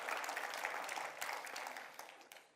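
A church congregation bursts into dense, sustained applause, many hands clapping together at a fairly quiet level, thinning slightly toward the end.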